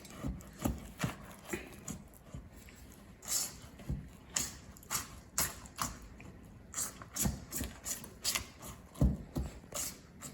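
Cookies and cream ice cream mixture stirred in a bowl by hand, producing a steady run of soft scraping and knocking strokes, roughly one or two per second, close and fairly quiet.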